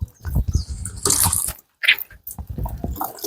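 Tap water runs and splashes as a face is washed by hand, close and irregular, with short gushes and drips broken by a brief pause near the middle.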